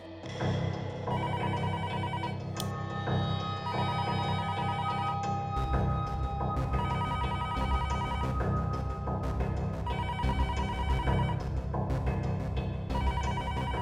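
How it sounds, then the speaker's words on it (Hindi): A telephone rings repeatedly in a steady pattern over a dense, loud musical background. "उठाओ फोन, उठाओ।"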